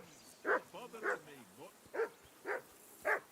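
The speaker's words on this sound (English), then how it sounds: "Jesus, Henry, that barking's driving me nuts" A dog barks in the medieval role-playing game Kingdom Come Deliverance 2, five sharp, evenly spaced barks close by, with a whining, sliding whimper between the first few.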